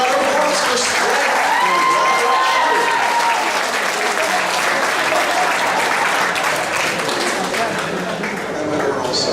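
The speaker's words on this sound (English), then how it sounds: "one more big round of applause for Strength" Big, dense audience applause at an anime convention costume contest, loud and continuous for several seconds, with cheers and voices mixed in throughout.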